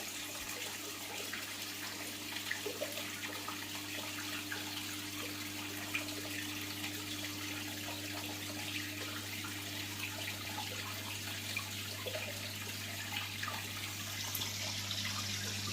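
Aquarium water drains steadily straight out and back in during a saltwater water change, a continuous low rushing flow with a constant hum beneath it, fairly quiet and without talk.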